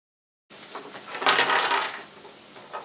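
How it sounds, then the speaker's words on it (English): Needle-nose pliers pull staples out of a dirt bike seat cover, making a close scraping, clinking metallic rustle that swells for about a second after a silent start, then fades. "I'm going to go back through with the needle nose and just pull these out quick."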